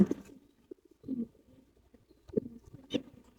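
Soft, low cooing from Giribaz high-flyer racing pigeons at a farm in a few short bursts, fairly close, with quiet gaps between calls.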